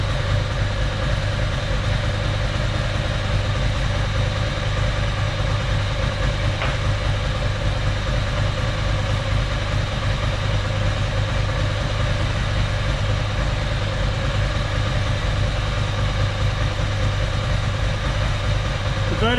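A Ducati SS or Monster engine with Mikuni carburettors idles steadily and unbroken throughout, a low, even throb with no revving, heard close up on its own during idle mixture adjustment.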